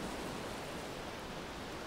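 Ocean surf rolls onto a pebble beach strewn with driftwood, a soft continuous wash of water and stones heard alone at a faint, even level.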